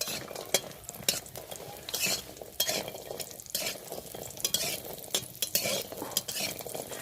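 Bori, small sun-dried lentil dumplings, frying in hot oil left over from frying bitter gourd, with a steady close sizzle broken by frequent sharp scrapes and clinks of a spatula stirring against the pan.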